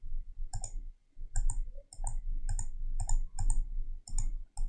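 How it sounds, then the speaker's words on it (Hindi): Mouse button clicks while drawing with the pen tool in CorelDraw 2020, a steady series of about eight sharp, close clicks at roughly half-second intervals over a low background hum, with no talking. "ये मैं क्लिक कर रहा हूँ"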